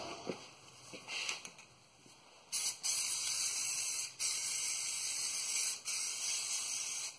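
A spray paint can is sprayed onto rust spots under a 2005 Dodge Dakota in four separate hissing bursts. The first is short and the rest are longer, each stopping sharply, with faint clanks before them.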